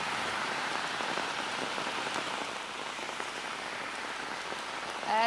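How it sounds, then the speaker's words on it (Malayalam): Heavy rain pours steadily, a dense continuous patter on surfaces close by, with no voices. "രാവിലെ മുതൽ തന്നെ അതിഗംഭീരമായ മഴയാണ്"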